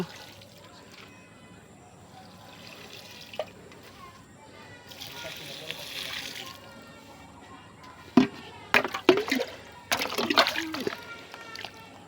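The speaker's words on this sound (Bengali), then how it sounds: "মরিচ গাছের গোড়ায় জল দিব।" Water splashes and sloshes onto the bases of chili plants in a village garden, a few short bursts of pouring and splatter that come late, with quiet talk and faint background sounds before them.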